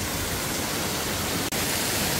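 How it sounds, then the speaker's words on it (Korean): Waterfall in Myungji valley in Gapyeong, water pouring down among huge moss-covered rocks, makes a dense, steady roar close by that drops out for an instant partway through. "그리고 바로 옆에도 이렇게 폭포예요"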